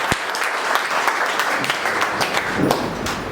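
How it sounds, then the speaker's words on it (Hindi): An audience at a business leaders' meeting breaks into applause, a dense, loud burst of many hands clapping that holds steady for a few seconds. "आपकी जबरदस्त तालियों के बीच में"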